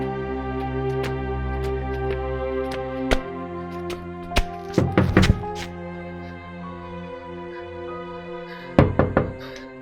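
Knocks on a door come in quick clusters of three to five sharp raps, repeated several times over a sustained musical background.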